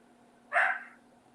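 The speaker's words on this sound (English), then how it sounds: "I have no idea what that little booger is barking at." A small dog gives a single sharp bark indoors, heard once at moderate distance over a faint low background hum.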